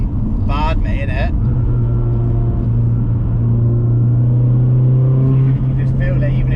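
A modified 552 bhp Astra VXR on high boost gives a loud, steady engine drone with a rising pitch as it accelerates, heard from inside the car, with brief speech over it.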